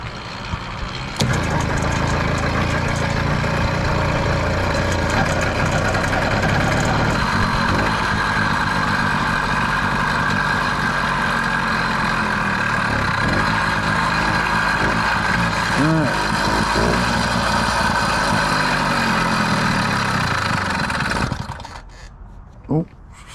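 A cold engine, apparently a motorcycle, runs loud and steady close by with a rough idle for about twenty seconds before cutting off abruptly near the end.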